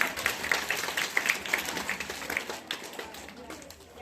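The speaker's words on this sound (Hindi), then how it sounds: "तालियां बजाइए।" Audience applause at a school community event, a dense patter of many hands clapping steadily, fairly loud and close, fading slightly toward the end, with a voice speaking over it.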